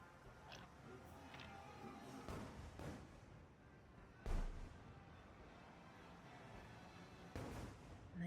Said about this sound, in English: You can hear the fireworks going off in the background as well.